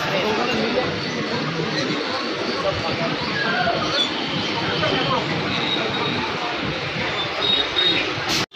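A local train running into Serampore station, a steady loud rumble of wheels and carriage noise with faint voices in the background throughout.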